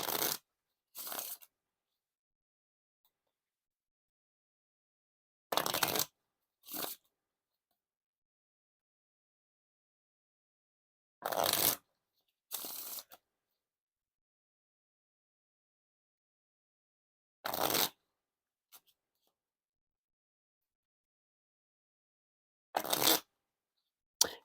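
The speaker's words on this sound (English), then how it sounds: "Now for the riffle shuffle or bridge shuffle." A deck of playing cards, the Censored deck by 2ND To None, is riffle and bridge shuffled. Short, crisp bursts come in pairs about every six seconds, with silence in between and no talking.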